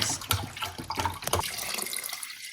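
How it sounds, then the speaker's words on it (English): Vegetable broth poured into a can of crushed tomatoes to rinse out the rest, a liquid splash and glug running for about two seconds, close and fairly clear, then fading to quiet. "I'm gonna add this veggie broth to this can of tomatoes to get the rest of the tomatoes out of the can"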